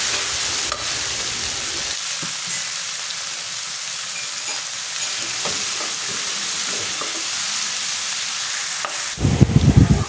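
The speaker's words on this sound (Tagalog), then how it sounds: "Igigisa lang natin yan hanggang sa lumambot yung ating kamatis." Onion and tomato sautéing in a pan, a steady bright sizzle with occasional stirring scrapes, louder bursts of clatter near the end.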